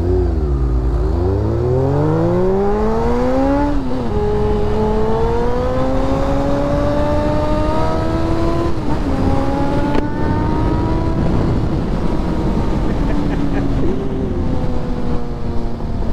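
A Toyota GR Yaris accelerating hard and cornering, its engine note climbing and dropping through shifts in a loud, continuous roar with wind buffeting the microphone.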